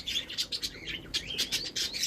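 Rainbow finches, Bengal finches and a canary in a cage give quick, high chirps and tweets in bursts, fairly faint and close, with a few rising whistled notes.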